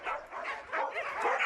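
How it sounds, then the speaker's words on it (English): Sled dogs in the Russian Far East bark and yip excitedly in a continuous, overlapping chorus of close, loud barks with some whimpering, several animals at once. "Suddenly, the dogs get excited and start barking."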